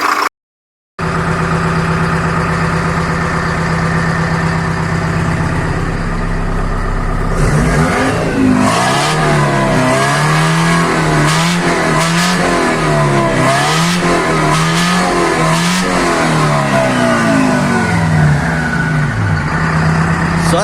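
Detroit Diesel 4-53N two-stroke diesel engine idling steadily, then revved several times in quick bursts before settling back, loud and close with no voices.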